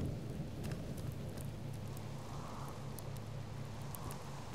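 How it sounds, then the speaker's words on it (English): Soft, continuous rainfall patters in the survival video game Subsistence, with a low rumble of thunder underneath, heard quietly and without speech. "Why is it raining right here?"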